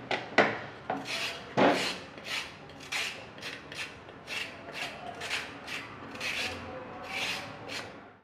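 Carrot being peeled by hand for quick carrot halwa, a series of about a dozen short rasping scrapes in a steady rhythm, close and fairly clear with no talking.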